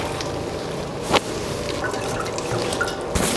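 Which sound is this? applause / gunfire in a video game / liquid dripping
liquid dripping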